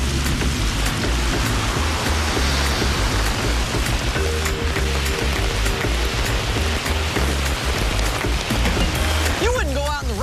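Steady heavy rain pouring down as a sound effect in an insurance commercial, a loud dense hiss that runs continuously while a voice speaks over it.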